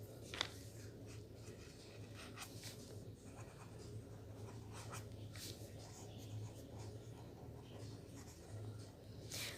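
Pen or marker writing a math formula by hand on paper or board, steady faint scratching strokes at close range under a low background hum.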